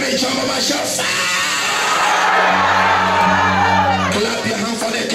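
A church congregation jumping up and shouting, a loud mass of overlapping yells and whoops with a sustained held cry rising in the middle, voices crowding together close by.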